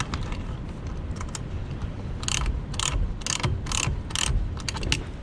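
Close, dry ratcheting clicks come in short bursts as wheel chocks on a parked RV are tightened, with a quiet background between strokes.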